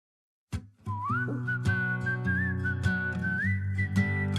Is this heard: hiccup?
no